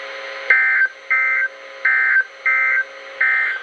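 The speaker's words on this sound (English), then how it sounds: "This concludes this Wednesday evening test of NOAA Weather Radio's warning device." A NOAA Weather Radio warning device test sends out a series of five loud electronic buzzing tones in a steady on-off pattern, each about a third of a second long, over a faint background hum.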